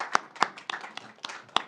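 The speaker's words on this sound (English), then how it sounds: "Let's give them a round of applause" Applause at a city council meeting after an oath of office: a few people clap sparsely and unevenly, sharp separate claps close by, with no crowd roar.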